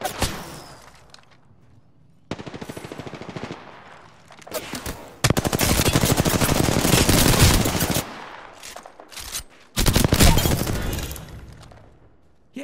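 Video game gunfire: loud, rapid automatic bursts of varying length, some long sustained volleys, separated by brief quieter gaps with faint movement sounds, no talking.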